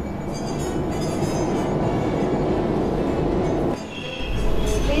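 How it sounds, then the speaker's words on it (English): A train rumbles steadily and loudly with rattling wheels and clatter, the roar briefly dipping before swelling again. "When the train pulled into the next station"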